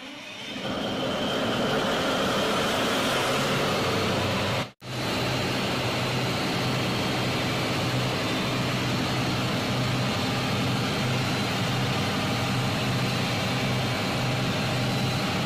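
A Caterpillar 2000 kVA diesel generator set runs with a loud, steady low rumble and broad roar, cutting out for a split second near the middle before carrying on unchanged, with no voices.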